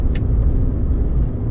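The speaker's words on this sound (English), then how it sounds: "Car coming." A car rolls past on the road at night, a loud close low rumble and tire roar sustained throughout, with no talk over it.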